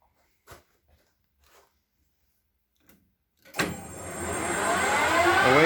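Colchester lathe spinning up at 800 RPM to turn a motorcycle front axle, a few light clicks before the motor starts and then hums steadily, rising in pitch as it reaches speed.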